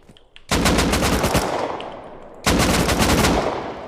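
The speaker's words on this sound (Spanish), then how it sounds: "Torreta, hay que apagarla." Two bursts of rapid automatic fire from an auto turret in the Rust video game, each a loud, sustained rattle close by, separated by a brief pause.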